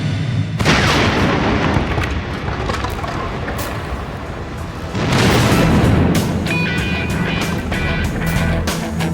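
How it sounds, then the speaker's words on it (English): A deep, loud boom bursts out as a sealed tree cannon packed with 5 pounds of gunpowder explodes, then a second heavy blast follows a few seconds later, each trailing off into a rumbling roar. "Myth undeniably proved a tree cannon can explode."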